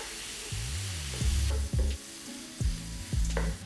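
Half a kilo of cleaned prawns going into a hot pan with cabbage and green chillies, sizzling loudly between low scraping stirs and a few clanks of a spoon against the pan.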